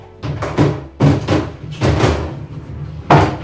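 Drawer of an IKEA MALM dresser being pushed and popped into place during assembly, a run of loud close wooden knocks and sliding thuds in irregular bursts.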